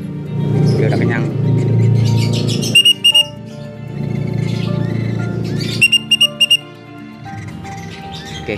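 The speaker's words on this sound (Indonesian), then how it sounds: "Ini kalau nggak salah pelatuk ulam." A fed woodpecker chick (pelatuk ulam) kept under a warming lamp gives sharp, high chirps in two quick clusters. The chirps sit over a steady low hum and a talking voice.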